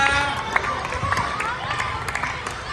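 An audience claps and cheers at an indoor group event, a steady, dense wash of applause with a crowd murmuring beneath it, loud and continuous throughout.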